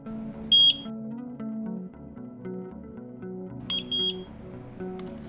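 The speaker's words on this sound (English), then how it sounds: "as soon as you hear two clear beeps, release the button" Two short, clear beeps from a Eufy Indoor Cam E220 2K pan-and-tilt camera as its factory reset begins, the first near the start and the second a few seconds later, each sounding over steady background music.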